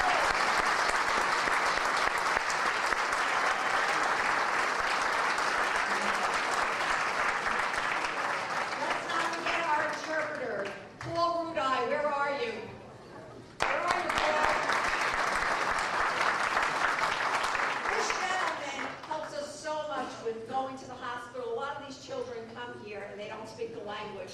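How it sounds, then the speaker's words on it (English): Steady, loud applause fills a gala dinner hall for about ten seconds, briefly dips, then resumes before fading as a voice begins speaking over the tail of the clapping. "We want to give you a round of applause."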